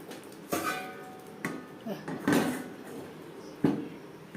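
Metal lid set down on a pot of nearly cooked masoor dal, giving a few sharp clanks and knocks spaced across the moment, close and moderately loud in a quiet kitchen.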